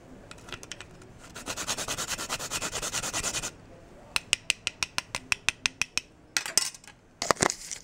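Whole nutmeg grated on a small handheld grater: a sustained burst of rapid scraping, then about a dozen crisp separate swipes in a quick rhythm, and a few final rasps, close and fairly loud with no talking.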